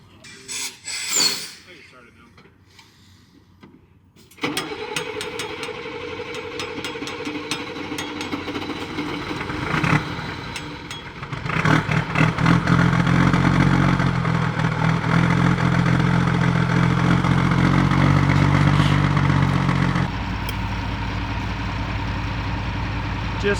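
A Mercedes-Benz Unimog tractor's diesel engine cranks over from cold, catches and settles into a loud rough idle with clattering knock, after a brief quiet start with some voices nearby.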